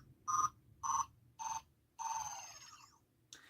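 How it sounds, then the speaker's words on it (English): A Ben 10 classic Omnitrix toy plays its transform-back sound: four short, bright electronic beeps in a steady rhythm, then a longer tone that sweeps downward and a brief final chirp, close and clear with no talking. "that's the sound you would hear when you transform back into an alien."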